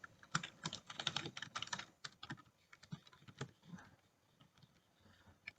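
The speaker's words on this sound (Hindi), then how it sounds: "let me just type out" Keys clatter on a computer keyboard in quick irregular bursts, dense at first then sparser with pauses, close and fairly quiet with no talking.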